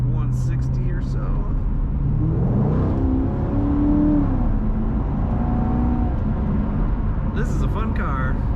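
A 2018 Chevrolet Corvette Stingray 2LT accelerates from inside the cabin, its engine note rising and shifting through gears in a steady, loud drone, with faint voice fragments at the start and end.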